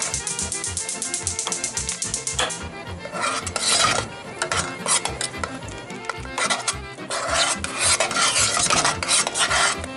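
Ajvar cooks in a pot, with a loud, rhythmic rasping scrape of a utensil stirring and rubbing against the pot bottom, coming in repeated close strokes with a softer bubbling hiss between them.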